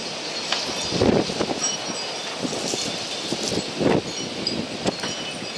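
Loose siding on a house rattles and bangs in winter storm wind. A steady roar of gusts carries irregular clattering knocks, with heavier thumps now and then.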